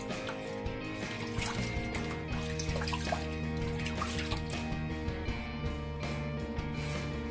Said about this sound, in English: let's go ahead and wet our face